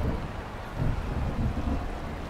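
Dense, steady rain in the Forza Horizon 2 racing game with a low rumbling undertone, continuous and fairly loud, with no voices.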